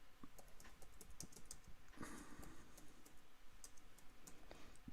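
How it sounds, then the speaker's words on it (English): Typing on a computer keyboard during a live astronomy observing webcast, with rapid irregular key clicks in short bursts, close and fairly quiet over a low background hum. "I'm just typing in to Pete."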